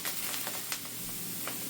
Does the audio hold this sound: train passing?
no